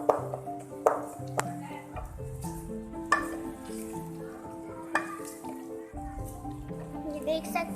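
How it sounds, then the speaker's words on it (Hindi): Crushed ginger sizzles quietly in a pan while being stirred, with a few sharp metallic taps of a utensil on the pan, all beneath someone speaking and music playing. "अदरक को सही से मिक्सिंग करना है। ये मैं कर रही हूँ मिक्सिंग।"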